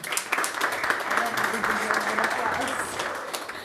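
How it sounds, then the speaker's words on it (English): Audience at a freestyle chess event applauding a guest called to the stage, a steady, dense round of clapping from a crowd indoors over a few seconds. "Please give her a round of applause."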